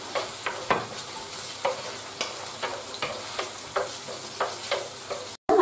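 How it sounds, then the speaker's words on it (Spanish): Garlic and onions frying in extra virgin olive oil for paella, a constant close sizzle with regular scraping stirs roughly every half second, ending in a brief cut to silence, no voices. "A pochar primero los ajos. Y vamos aplicando a continuación las cebollas."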